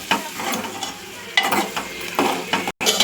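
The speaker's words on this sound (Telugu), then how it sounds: "ఇప్పుడైతే బోడకాకరకాయలు అయితే వేయాలి. మంచిగా కలపాలి." A spoon stirs spiny gourd curry in a pan, making loud, close scraping and sizzling strokes in about four bursts, with one short silent gap near the end.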